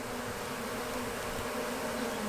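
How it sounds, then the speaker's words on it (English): Honey bees buzz during a rescue of a colony from a telecom enclosure, a dense, steady swarm drone that fills the short stretch without any voices. "all of a sudden it'll fall off, there'll be bees everywhere"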